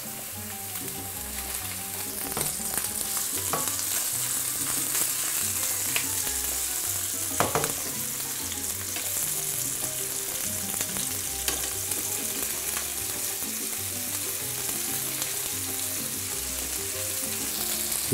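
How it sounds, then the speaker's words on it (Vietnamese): Shrimp meatballs shallow-frying in a pan of oil, a loud, steady sizzle with crackling pops and occasional stirring, with no talking over it. "Mình cho dầu vừa đủ để mình áp chảo thôi nha các bạn, chứ mình không có deep fry nữa."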